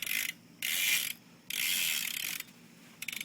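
The rear hub on a BMX bike, an Odyssey Hazard Light hub laced to a plain black Alienation wheel, buzzes with rapid ratchet clicks as the wheel freewheels. The clicking comes in three bursts with short pauses, close up and with no talk.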